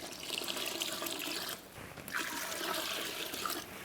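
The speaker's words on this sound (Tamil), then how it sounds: "இப்போ தண்ணி ஊற்றியாச்சு." Water pours steadily into a large pot for cooking basmati rice for kuska for about thirty people, a continuous splashing stream with a brief dip partway through.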